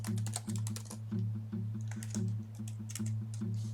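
A computer keyboard clicks in quick irregular bursts as a file name is typed, close and clear over a steady low electrical hum, with no talk.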